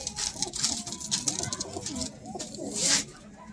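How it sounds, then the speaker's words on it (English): Pigeons coo in soft, repeated throaty calls close by, with fluttering and pattering noises and people talking faintly in the background. "His bird's active too."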